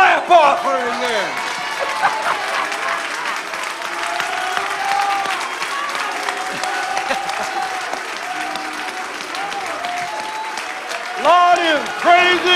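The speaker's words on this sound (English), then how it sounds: "Well, give the Lord a clap offering then." A church congregation claps through a worship service, steady applause filling the room while a voice with sung or musical tones carries over it, swelling again near the end.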